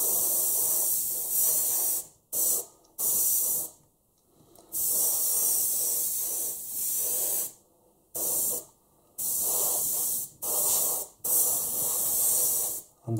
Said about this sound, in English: I'll spray them completely in black